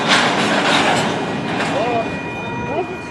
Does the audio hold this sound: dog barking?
no